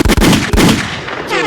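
Gunshots played from a recording on a podcast, heard as a loud close rapid burst of several sharp cracks followed by a ringing decay.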